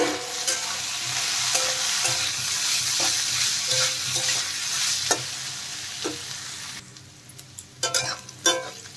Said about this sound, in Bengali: দেখুন ঢাকনা উঠিয়ে আরেকবার নেড়ে দেব সবজি